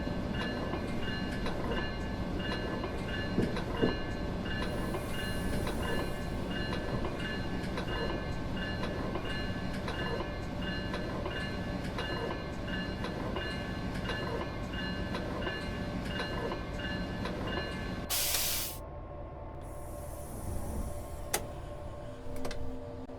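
Virginia Railway Express commuter train on the Fredericksburg line, as in the Train Sim World 2022 video game, running steadily with a continuous rumble, rhythmic wheel clicks and whining tones, plus a brief hiss near the end.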